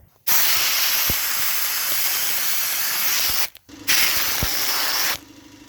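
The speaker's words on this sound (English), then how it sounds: "Hopefully we can just sandblast it clean." A sandblaster hisses loudly while stripping cheap rattle-can paint from a jack, in two long continuous bursts separated by a brief pause, close and steady.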